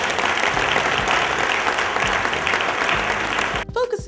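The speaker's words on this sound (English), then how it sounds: "Let's give a round of applause for everyone coming out tonight" Dense, sustained applause from an audience at a queer people of color conference fills the room, steady and loud before breaking off abruptly near the end.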